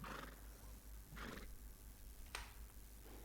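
A horse in Red Dead Redemption 2 gives short neighing snorts in separate bursts over steady background hum, with one sharp click partway through.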